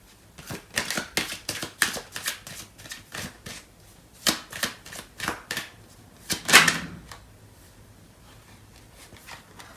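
Tarot cards being shuffled at close range, a rapid run of crisp riffling flicks and slaps with a louder burst near the end, then quiet.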